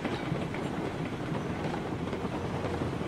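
A train runs along the tracks in the video game RailRoads Online, a steady rumbling roll with faint rhythmic clickety-clack of wheels, continuous and fairly close, with no voices.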